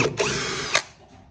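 A power drill spins up while driving a screw into wood, fitted with a drill bit. Two short bursts of high-pitched motor whine are followed by a brief louder burst, then the drill winds down and trails off, close and loud.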